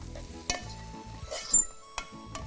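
Biryani masala and turmeric cooking in a pan for chicken tikka biryani, a soft low sizzle with a few sharp stirring knocks, fairly quiet, with no speech.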